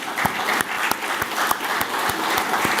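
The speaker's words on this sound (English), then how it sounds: "all of them deserve a big round of applause" An audience at a keynote address applauds steadily, dense continuous clapping from a large crowd with a few sharper nearby claps standing out, sustained without talking.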